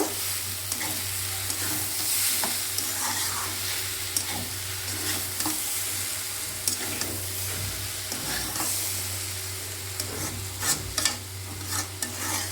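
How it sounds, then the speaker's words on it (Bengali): Kachki fish and vegetables sizzle steadily in a pan, with frequent gentle scrapes and taps of a spatula as the mixture is stirred. There is no speech. "খুব আলতো আলতো করে মাছটা নেড়ে দেবে সবজিগুলো, যাতে মাছটা না খুলে যায়"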